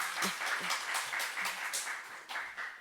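Church congregation clapping at a fifth-anniversary worship service in Daegu, a brief, fairly faint patter of hands with a few distinct claps, no talk.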